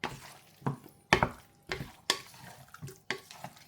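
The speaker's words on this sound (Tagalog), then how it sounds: "So yan, gisa lang, patuyuan lang muna natin siya." Two kilos of chicken adobo is stirred and sautéed dry in a pan, rhythmic scraping stirs every half second or so over a low sizzle, close and clear.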